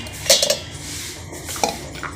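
Dry chana dal pours into a metal mixer jar with a couple of sharp clinks and rattles, followed by a brief scrape and a second clatter, close and loud in a home kitchen.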